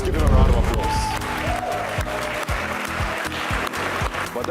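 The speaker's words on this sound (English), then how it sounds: "Please give them a round of applause." Studio audience applauds on a televised Nigerian quiz show for students, a loud burst of clapping that stays steady throughout, mixed with background music and a host's voice speaking over it.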